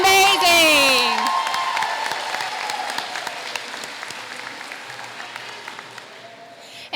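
An audience at a school district convocation claps and cheers loudly, with whoops at the start that fade into sustained applause tapering off over several seconds.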